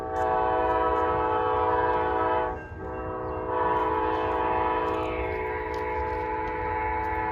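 A train thunders past at close range with a long, loud, sustained horn blast that briefly breaks off and resumes, over the heavy rumble of rail cars, with no talk.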